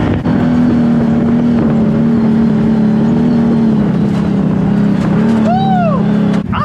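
A Can-Am Maverick Turbo off-road vehicle drones loudly under acceleration on a muddy outing, a steady engine tone with wind buffeting, then a rising, bending whine near the end as it revs up.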